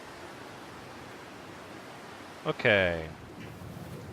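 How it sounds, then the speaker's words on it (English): Steady in-game wind blowing across a snowy outdoor landscape in The Long Dark, a soft continuous rushing hiss throughout, with a brief spoken word from a player cutting in near the end. "It's a little windy, but it's not too cold."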